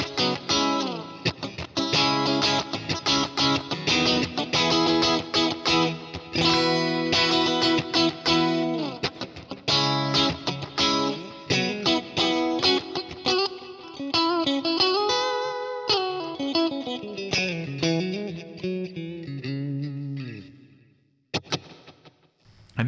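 An electric guitar on the fourth switch position with out-of-phase pickups rings through effects, strummed chords and single-note runs under chorus and light distortion, loud and close, thinning to sparse notes near the end.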